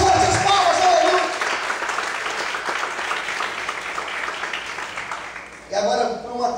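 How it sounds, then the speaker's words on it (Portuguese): A church congregation claps hard and fast in a dense, loud wash of applause, with voices talking over it before it thins and a burst of sound returns near the end. "Mais fortes as palmas, aleluia."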